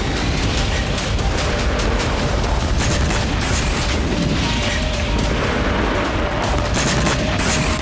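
Dense, continuous roar of blasts and rumbling detonations, loud and sustained throughout with no quiet gaps, like heavy explosions close by.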